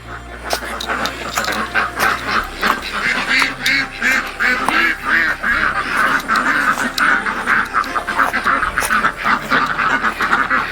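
A flock of ducks quacking constantly in a noisy chorus, close and loud, with a person talking intermittently underneath.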